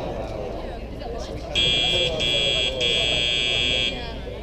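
A loud electronic buzzer sounds for a couple of seconds in three joined bursts, cutting over a noisy background of crowd murmur.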